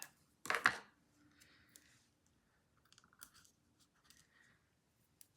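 Scissors snip through scrapbooking paper pieces, with one loud, crisp cutting burst near the start followed by several fainter, scattered snips and paper rustles.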